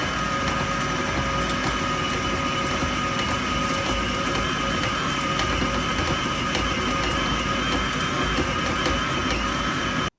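An electric mixer whirs steadily and continuously, beating icing sugar, butter and vanilla extract into buttercream, close and alone without talk.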